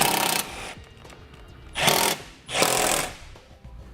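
A power tool drives replacement bolts into the belly pan under a 2018 Chevrolet Sonic, with three loud whirring bursts of a second or less, each separated by quieter gaps, close by.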